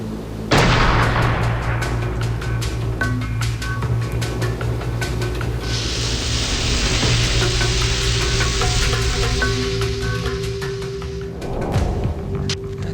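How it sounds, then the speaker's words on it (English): A shotgun fires birdshot in a loud blast, followed by a dense wash of noise and rumbling debris that lasts several seconds, with no voices. "the birdshot is discharged from the shotgun"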